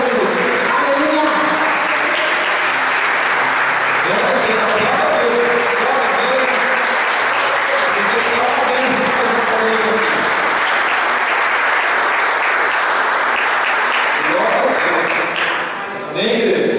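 A large crowd claps continuously and enthusiastically, a dense, sustained wash of applause lasting throughout with faint voices mixed in.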